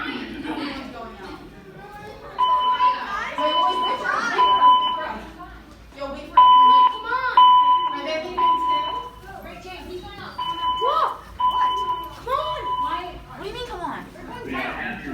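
A hotel fire alarm in the Doubletree Hotel, Niagara Falls NY, sounds in repeated pulsing electronic tones, partly masked by a recorded evacuation announcement and nearby voices throughout.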